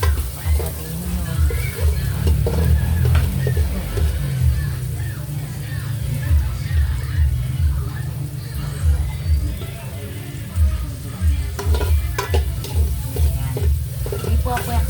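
Spaghetti sauce being stirred and mixed in a frying pan, a steady sizzle with rhythmic scraping and swishing strokes repeating close up, a voice talking now and then over the cooking.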